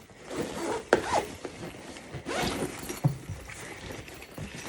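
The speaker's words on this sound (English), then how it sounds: "This zips up on the bottom here." A zipper runs along the bottom of a bag, giving several short scraping zips and rustles at close range, with soft handling noises between them and no talk.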